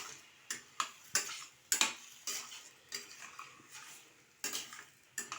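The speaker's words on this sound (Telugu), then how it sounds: "వీటిని బాగా కలుపుకోవాలి. అన్నీ మసాలా బాగా కలిసేటట్టుగా కలుపుకోవాలి." A spoon stirs black-eyed peas with onion and masala in a cooking pot, making repeated scraping clinks and scuffs in an uneven rhythm, close by, with no talking.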